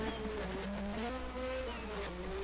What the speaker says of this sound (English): Downshifting once again.